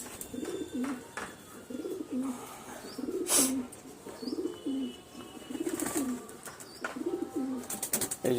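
Pigeons at a rooftop loft cooing in a steady repeated rhythm, several soft low coos in regular succession, with occasional brief rustles and a wing flutter in between.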